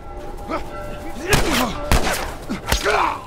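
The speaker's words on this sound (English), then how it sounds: "Who's shooting me?" A few sharp gunshots crack out in The Last of Us Remastered, three distinct close reports spaced about half a second apart, with a voice talking between and over the shots.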